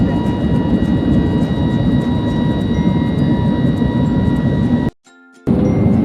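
A passenger airplane descends to land before dawn at an airport, a loud, steady cabin engine roar with a high whine, briefly cutting out near the end before resuming, heard from inside the cabin.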